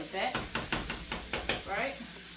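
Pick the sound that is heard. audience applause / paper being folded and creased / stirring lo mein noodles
stirring lo mein noodles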